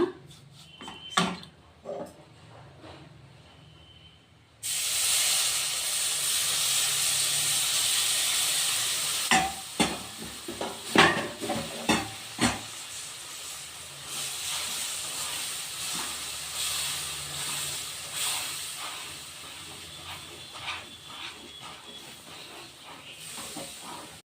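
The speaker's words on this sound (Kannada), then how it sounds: "ಈಗ ಶುಗರ್ ಸಿರಪ್ ಹಾಕ್ಕೊಳ್ಳೋಣ." Sugar syrup poured onto wheat flour fried in ghee for halwa, heard first as a few light clinks, then a sudden loud hiss and sizzle that keeps going under repeated stirring scrapes and knocks of the ladle, no voices.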